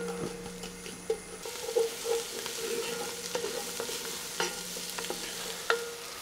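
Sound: onions sautéing in melted margarine in a Dutch oven

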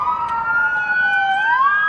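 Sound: police sirens

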